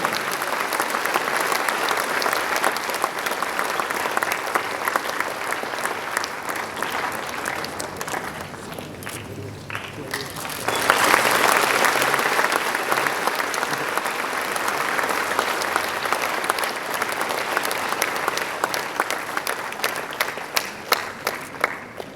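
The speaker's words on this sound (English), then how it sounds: "Once again, a round of applause for Ms. Aruna Roy and the Mazdoor Kisan Shakti Sangathan." An audience at an award ceremony applauds, sustained dense clapping from a crowd that dips briefly midway, then swells louder and continues to the end.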